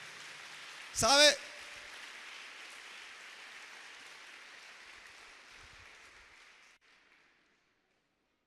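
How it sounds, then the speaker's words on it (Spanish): Congregation at a Spanish-language church service applauding in a brief loud burst, followed by a long steady hiss of crowd noise that fades out, with a short spoken word over it. "Dele un aplauso a Dios en este momento, porque Él se lo merece"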